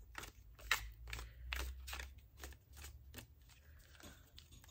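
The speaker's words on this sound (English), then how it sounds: "So I'm going to give this a shuffle" A tarot deck riffled and shuffled by hand in a steady series of crisp, close card snaps, about a dozen quick strokes at low volume with no talking.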